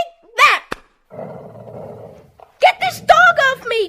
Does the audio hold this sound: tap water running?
no